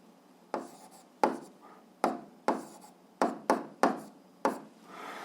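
A pen taps and scratches on paper in about nine short, separate strokes as a math solution is written out, close and fairly quiet with no talking.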